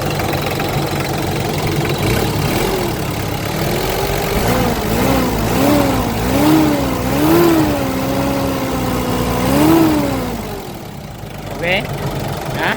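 A 2004 Mitsubishi Strada L200 4x4 double-cab pickup's diesel engine idles, then rises and falls through several revs in a row, with a clattering, knocking tone up close.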